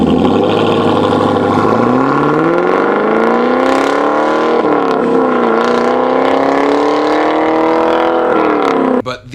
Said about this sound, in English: Also, here's the Borla system.